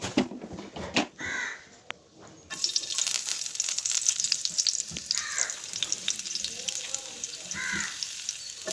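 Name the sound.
garlic frying in hot coconut oil in a pan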